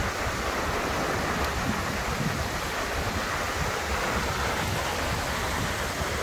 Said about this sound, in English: the river is in spate.